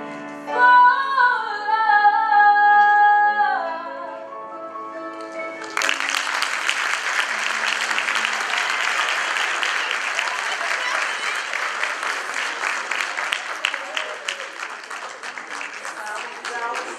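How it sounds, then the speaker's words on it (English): Audience applause at a morning gathering, beginning with sung music that gives way near six seconds to a sustained, dense wash of many hands clapping, steady and fairly loud, then slowly thinning toward the end. "Let's give another round of applause for Ms."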